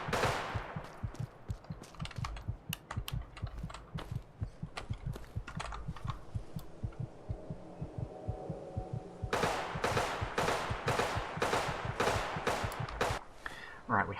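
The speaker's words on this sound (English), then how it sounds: "we had some lasers going off" Laser weapons fire in rapid bursts of sharp, close zaps and cracks during Fallout 4 combat, dense early on, sparser in the middle and returning in a quick regular volley near the end, with a faint voice at times.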